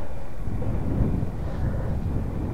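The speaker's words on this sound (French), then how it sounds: "Donc, j'ai bien le vent du nord." North wind blowing hard across open high ground on the Puy Brionnet, a steady loud low rumble buffeting the microphone throughout, with no voices.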